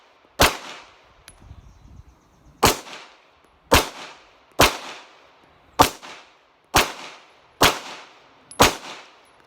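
An FN Browning Hi-Power 9mm pistol fired eight times at an uneven pace, roughly one shot a second, each a loud sharp crack with a short decaying tail, heard close and alone.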